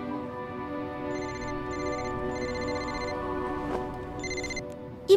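A phone rings with a repeating electronic ringtone, bursts of bright tones with short gaps, fairly close and steady, ending with a sudden knock-like sound.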